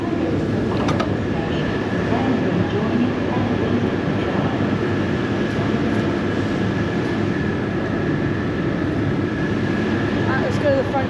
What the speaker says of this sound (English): Just train's departing very soon, so I'm going to just jump back on board.